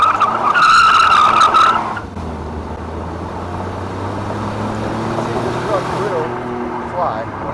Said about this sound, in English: we're just gonna do a quick 0 to 60 with a little bit of brake press.